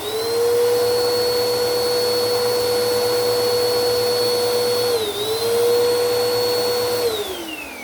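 A refurbished Bissell vacuum cleaner runs with a steady, loud motor whine that dips briefly in pitch and recovers before winding down near the end, with no voices.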